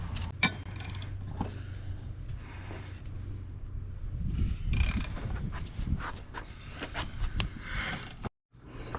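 An adjustable grip tool being loosened during front-wheel-drive wheel bearing work, producing close metallic clicks, ratcheting rattles and handling clatter in irregular bursts, with no talking.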